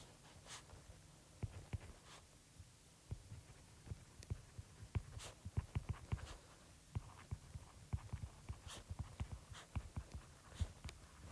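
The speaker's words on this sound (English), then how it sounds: "so let me just write a note to that." A note is written by hand with quiet, irregular taps and scratches of a pen stroke by stroke, faint and close, with no talking.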